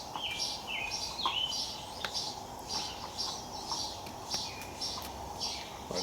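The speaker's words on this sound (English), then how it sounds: "listening to the birds" Several birds chirp and trill in repeated short phrases over a steady outdoor hiss, with calls overlapping at moderate distance.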